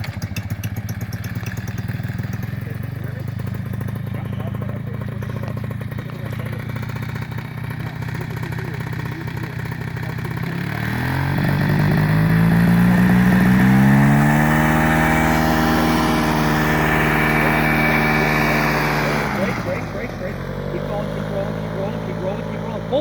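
A small aircraft engine on a pilot equipment modification runs loud and steady, then its pitch rises as it is throttled up to full power for launch, holds at a high roar and drops back near the end, with a voice talking over it.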